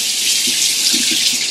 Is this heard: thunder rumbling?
no